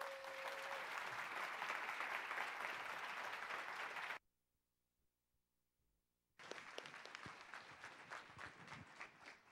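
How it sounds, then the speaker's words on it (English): Applause from the audience at the 2013 Axelson nonprofit symposium, a dense crowd clapping that suddenly cuts out to near silence for about two seconds before resuming at full strength. "Another round of applause for Rebecca Torres."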